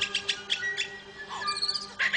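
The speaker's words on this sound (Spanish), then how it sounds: "Las aves lira poseen sus propios reclamos distintivos" Lyrebird calling with its own distinctive song: a run of bright chirps and whistled notes, moderately close, in bursts with short pauses and a slurred descending phrase midway.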